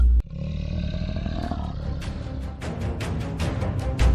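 In the wild Cerrado, a lion chasing a warthog gives a loud, rumbling roar that swells over a few seconds. Rustling, thudding movement comes in toward the end, with no voices.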